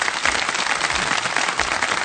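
Sustained applause from an audience, steady and dense, greeting the children's team that won the Norway Cup at an Independence Day (14 August) celebration. No voices, just continuous clapping throughout.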